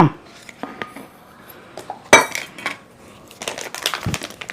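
Spoon and containers clink and scrape at close range as instant upma is portioned into home storage containers, with irregular taps and one sharper knock midway.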